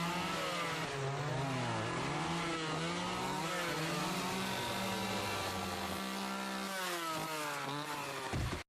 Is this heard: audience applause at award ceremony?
no